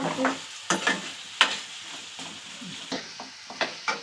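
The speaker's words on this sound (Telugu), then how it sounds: "ముక్కలు అక్కడ వేసేసి కలుపుతున్నాను" Drumstick pieces fry in a pan while being stirred, giving a soft sizzle broken by several sharp scraping strokes of a spoon, close and fairly quiet.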